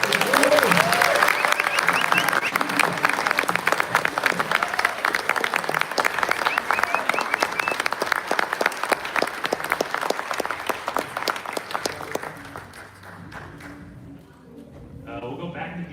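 A comic convention panel audience claps loudly and continuously for about twelve seconds, with a few cheers and voices in the crowd, before the applause tapers off.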